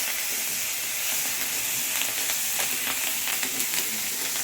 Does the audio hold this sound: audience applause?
no